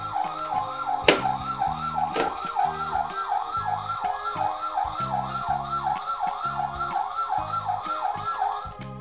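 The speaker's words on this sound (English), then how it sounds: "we will also hear the sirens" A Dickie Toys toy ambulance siren plays a loud, steady wailing tone that rises and falls rapidly over a repeating electronic pattern, close up, with two sharp clicks near the start as the button is pressed.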